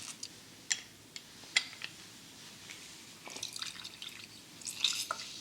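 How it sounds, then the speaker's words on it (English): Juice from one lemon drips and splashes into a chickpea salad vinaigrette, a soft close patter of scattered drops with a few sharper plinks, quiet and without talk. "for a bit of zing, we're going to add the juice of 1 lemon"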